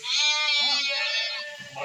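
A sheep on a farm at shearing time lets out one long, loud, wavering bleat that fades toward the end, close by, with no speech over it.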